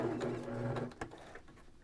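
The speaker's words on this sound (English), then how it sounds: "I'm going to do a little back stitch right here at the end" A sewing machine back stitches a seam at the end of a fabric popcorn bag, giving a steady whirring drone that stops briefly at about one second, then quieter handling follows.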